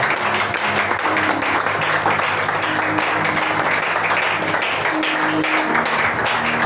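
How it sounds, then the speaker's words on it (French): A church congregation applauds during a worship service, a dense, continuous wash of clapping that fills the room throughout, with faint voices and a sustained musical tone underneath. "Acclame encore Jésus"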